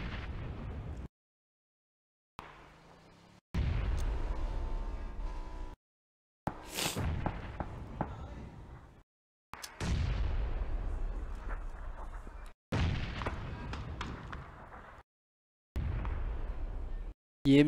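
Heavy explosions and bursts of gunfire in a competitive shooter video game, several loud booming blasts separated by brief silent gaps, each trailing off with a rumbling decay.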